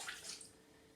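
Hands splash water briefly during sensory play, a soft, close swish of moving water lasting about a second.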